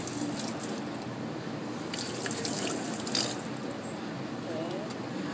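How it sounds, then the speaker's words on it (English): Water is poured and emptied out of a container after cooling a wax-cast balloon, a steady splashing, trickling flow close by that runs the whole time with a brief louder surge midway. "Empty the water out."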